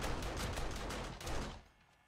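Automated defense turrets in the zombie survival game 7 Days to Die fire in a loud, rapid stream of shots that then tails off into quieter ambience.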